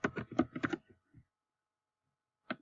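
Typing on a computer keyboard, a quick run of close, crisp key clicks followed by a pause and a final short tap.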